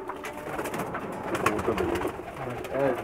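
Soft pigeon coos repeat against a busy background of bird chatter, with a clearer coo rising near the end.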